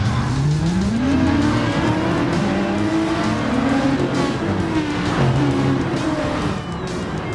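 Race cars in a Trailblazers eSport racing video game bounce off their rev limiters on the grid, then launch together, a loud, continuous roar of rising engine notes with faint tyre squeal as the pack pulls away.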